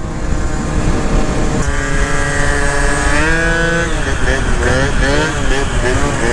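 Honda Elite scooter fitted with a DIO 72cc kit and upgraded gearing, riding steadily at speed, its engine buzz rising and shifting in pitch under constant wind noise while a rider talks over it.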